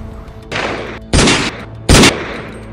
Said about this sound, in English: At 12:30, the shots were fired, and Mrs. Kennedy is quoted as saying